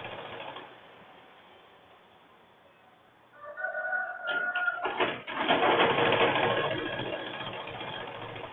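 Sewing machine stitching piping onto a boat-neck blouse, close to the cord; quiet low rumble at first, then the motor picks up into a louder steady mechanical whir with some whining tones and clicks.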